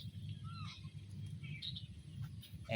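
Several different wild birds call from around the spot: scattered chirps, whistles and short calls, some near and some farther off, over a steady low background rumble.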